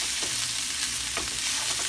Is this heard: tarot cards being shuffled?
no